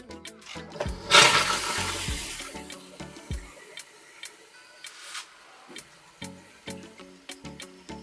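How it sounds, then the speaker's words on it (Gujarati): A tap opens with a brief rushing gush of water, followed by scattered light clicks and drips in otherwise quiet surroundings. "કોક ચાલુ કરીએ એટલે પાણી આવી જાય"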